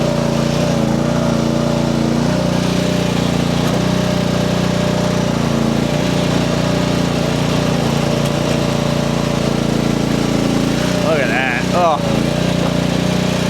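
A small Chinese mini skid steer's engine runs continuously with a steady, buzzy drone close by, and a voice sounds briefly over it near the end.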